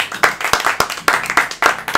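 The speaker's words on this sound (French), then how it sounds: "Un tonnerre d'applaudissements, s'il vous plaît." A small group claps during a lively podcast recording, a few sharp, uneven hand-claps in quick bursts rather than a full roar, close and dry with short gaps between the strokes.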